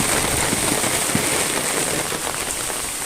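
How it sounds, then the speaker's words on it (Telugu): Heavy rain pouring outside a house, a dense, loud, continuous hiss of drops drumming on surfaces, with no letup throughout. "వర్షం మాత్రం బీభత్సంగా ఉంది"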